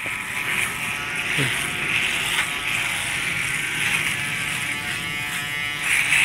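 A Panasonic AA battery electric shaver trims a beard with a close, continuous high buzzing hum and slight scratchy variations as it cuts, running steadily throughout.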